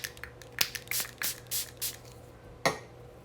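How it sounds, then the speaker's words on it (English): Several short, bright spray bursts of brush cleaner onto a makeup brush hiss in quick succession, a few brief pumps spaced unevenly, close and fairly quiet with soft handling noises between. "you just spray some of your brush cleaner right onto your brush"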